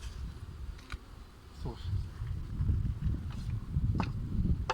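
Honey bees fly around the hive entrance during a cleansing flight, giving a low, continuous, faint buzzing hum with occasional brief louder passes near the listener.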